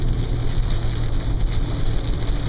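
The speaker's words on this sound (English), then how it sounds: "Again, it's raining a little bit." Steady rain drums on a car while it drives along a bypass, a dense, constant hiss and patter with low road rumble underneath, no voices.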